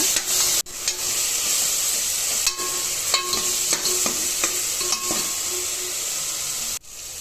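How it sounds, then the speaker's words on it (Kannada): A loud, steady sizzle of ground masala paste frying in a tempering of hot oil, broken by several sharp scrapes and taps of a spoon stirring the pan. "ಈ ಒಗ್ಗರಣೆಗೆ ಈ ಮಸಾಲೆ ಸೇರಿಸ್ಕೊಂಡು ಫ್ರೈ ಮಾಡ್ಕೊಳ್ಳೋಣ"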